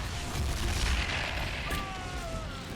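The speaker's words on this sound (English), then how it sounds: "Big explosion." Explosion in the video game Dragon Age Inquisition: a broad, rumbling burst of game noise that stays dense across the moment, with falling whistling tones near the end and no talk.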